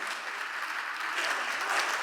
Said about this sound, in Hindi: एक शानदार ताली होनी चाहिए